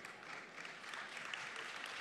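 Audience applause at a corporate cybersecurity event, a steady wash of clapping from a crowd heard at a distance and fairly faint, with no speech over it.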